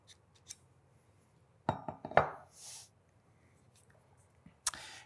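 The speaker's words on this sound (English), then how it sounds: "now we can remove the barrel from the upper receiver." Rifle barrel pulled free of the upper receiver on an Armscor TM22 during disassembly: a few sharp metallic clicks and a scraping slide in the middle, then a final clink, all close and quiet without talk.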